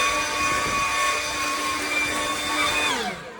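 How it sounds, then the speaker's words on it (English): An electric leaf blower, smaller than a backpack unit, runs with a loud, steady high-pitched whine and airy rush, then spins down and fades near the end, close by with no talking. "Now, this blower, not going to be as powerful as my big backpack blower"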